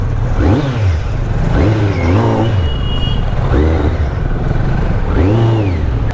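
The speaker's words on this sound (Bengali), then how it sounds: "বাইকে একটু সাউন্ড শোনার জন্য।" A motorbike engine, on a Kolkata to Puri group ride, revs hard several times, each throttle blip rising and falling in a loud, close burst, with short idle gaps between the revs.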